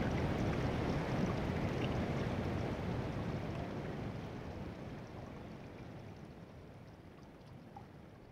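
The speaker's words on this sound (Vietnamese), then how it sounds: "Suối nó chảy yếu nhưng mà nó có đông dũng á." A weakly flowing forest stream gives a steady, broad watery rush that holds constant and slowly eases in loudness, with no voices.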